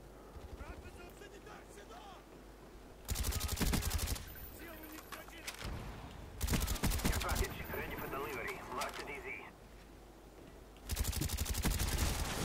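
Gunfire in a tactical shooter video game, heard in three loud dense bursts of rapid shots separated by quieter stretches that carry background game sounds.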